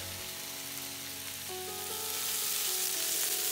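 Carrots, woodland mushrooms and lotus root stir-frying in a wok for a Szechuan mala dish, a soft continuous sizzle that grows louder partway through, with a few faint tonal hums beneath.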